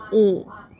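A single loud, harsh caw close by, short and rasping, fading into quiet background noise.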